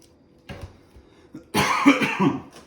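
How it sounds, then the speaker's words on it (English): A person coughs several times in quick succession, close and fairly loud, with a softer throat sound just before. "And cough."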